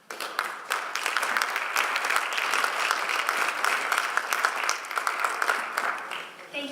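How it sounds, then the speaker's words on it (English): An audience at an MLK Day celebration breaks into sustained applause, a dense, even clatter of many hands clapping that holds steady for several seconds before easing off. "Can we please give them another round of applause"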